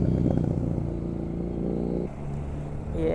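BMW F450GS motorcycle with an inline engine running nearby, a steady low mechanical hum with a brief dip near the end before the engine note rises again; no voices over it.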